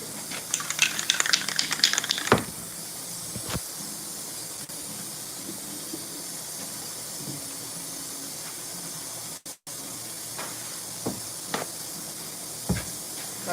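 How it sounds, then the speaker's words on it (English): Orange aerosol spray paint hisses in a steady broadband burst over the first two seconds, near and fairly loud, then gives way to faint background noise with a few brief clicks at a haunt workshop. "Hey, Kevin, I spray these, right?"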